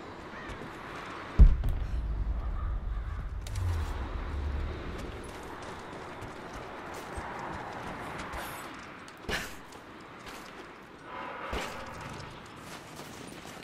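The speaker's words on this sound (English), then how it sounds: "There's a lot of birds around," Scattered crow caws drift through the ambience of Rise of the Tomb Raider, mostly distant and intermittent, after a sharp thud early on and a low rumble that fades, with no talking.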